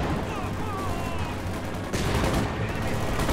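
Dense gunfire rattles continuously in a Company of Heroes 2 battle between Wehrmacht and Soviet forces, with overlapping bursts and heavier blasts forming a constant barrage, and a voice talking underneath.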